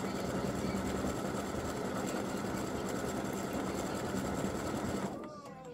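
An embroidery machine stitches a freestanding lace gingerbread house earring in brown thread, a steady, close, rapid mechanical whir that runs continuously and stops near the end.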